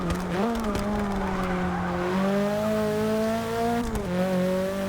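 Nissan Silvia race car with a 1.6-litre rally engine in Forza Motorsport 6, a loud steady engine drone with gear-change dips and tire squeal throughout, alone without talk.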